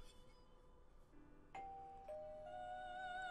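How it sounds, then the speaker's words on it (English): A two-tone doorbell chime in the video game Persona 4 Golden, ringing once clearly over a quiet ambient background, then a lingering tone. "Is that a doorbell?"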